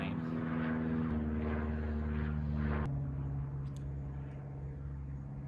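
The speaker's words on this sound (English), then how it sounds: "And another plane." A propeller airplane drones overhead with a steady, tonal engine hum that holds loud and then eases slightly as it passes.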